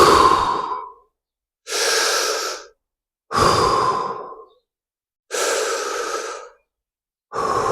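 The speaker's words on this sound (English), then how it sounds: "in through the mouth, out through the mouth" A person breathes slowly in and out through the mouth during a fascia release exercise, making five close, airy breaths with silent pauses between them, alternating inhales and sighing exhales.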